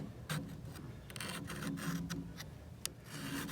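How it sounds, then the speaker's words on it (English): A hand file rasps along a tool's cutting edge to sharpen it, giving quiet, repeated scraping strokes in an uneven rhythm with short pauses between passes. "you can either use a file and try to maintain the same exact angle"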